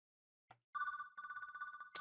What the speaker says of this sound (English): that's what that sounds like is phone.